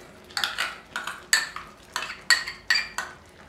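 A spoon stirs cashew paste into masala in a pan, giving about six evenly spaced metallic clinks and scrapes, close and moderately loud with no voices.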